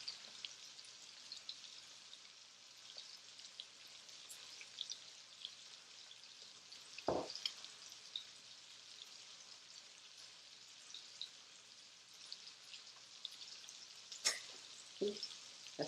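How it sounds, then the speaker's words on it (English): Garlic butter pork chop searing in a hot skillet on medium-high heat, a steady close sizzle with crackling pops and a few louder sharp spits near the middle and end, no voices. "let it sear for about 3 minutes each side on a medium to high skillet"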